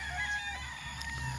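A rooster on a gamefarm crows in a single drawn-out call, moderately faint over a steady background hum.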